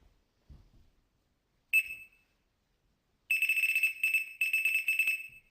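Electronic fishing bite alarm sounds close and loud, first with one short high beep, then after a pause with a rapid run of piercing repeated tones. Faint handling noise comes before it.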